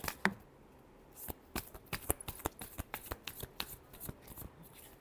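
Tarot cards are shuffled by hand in a rapid run of crisp, sharp riffling snaps and slaps, close up and alone, with brief pauses between bursts.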